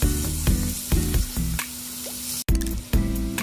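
Chicken coated in masala sautés in a pan, with repeated squishing stirs breaking up a steady sizzle, close and fairly loud, with no talk.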